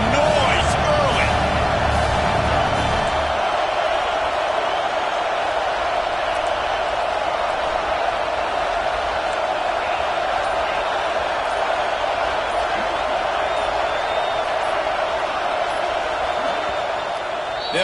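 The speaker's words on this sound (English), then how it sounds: "This crowd bringing the energy and noise early." An indoor basketball arena crowd roars steadily through a Texas A&M versus Oregon game, a loud, dense wall of cheering with a commentator talking over it and a brief thump near the start.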